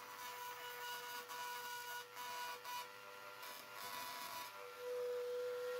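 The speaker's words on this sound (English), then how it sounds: "Now using a carbide burr just to help clean things off." A carbide burr grinds metal on a Ford Escort MK1 door during welded repair work, giving a steady, fairly quiet high whine with a faint rasping edge that runs continuously with no talking.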